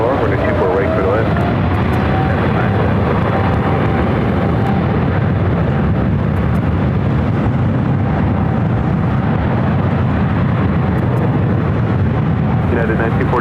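A Boeing 777 landing at LAX produces a loud, steady jet roar that holds without a break, with faint radio voices talking over the engine noise.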